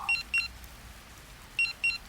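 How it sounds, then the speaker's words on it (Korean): An old pager beeps in two short paired bursts, a pause, then another pair of sharp electronic tones, used as an effect over quiet background in a horror tale. "다시 벨이 울렸습니다."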